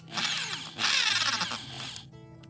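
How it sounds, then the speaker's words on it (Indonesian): A small power drill whines loudly and steadily while boring into a part for a side-pump air rifle build, in two sustained bursts that fade out at the end. "Sekarang saatnya kita pengeboran."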